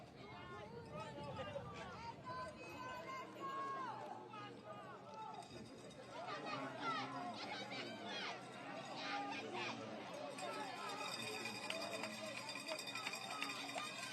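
Football crowd at a Concacaf Nations League match between the US Virgin Islands and the Bahamas, near the 90th minute as a corner is taken. A steady, dense murmur of many voices swells slightly partway through and holds for the rest of the clip.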